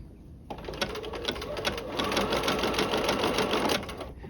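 A sewing machine stitches a French seam on a sleeve, starting with a steady whirring hum that grows a little louder partway through and then runs on without a break.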